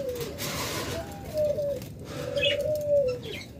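Caged pet budgerigars, sold with their chicks, call at close range: drawn-out tonal calls rise and fall twice, with brief high chirps scattered over a steady low murmur and no talk.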